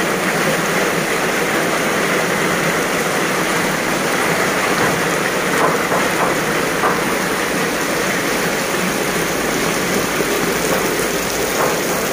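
Heavy hurricane rain from Hurricane Nora in Acapulco pours down in a dense, constant roar of water, loud and unbroken throughout, with no voices.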